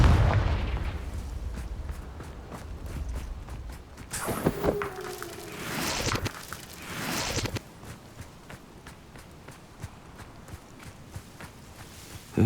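Spell blasts and explosions in the Hogwarts Legacy video game, several booming impacts with rumbling bursts around the middle, amid scattered footsteps and thuds, no speech.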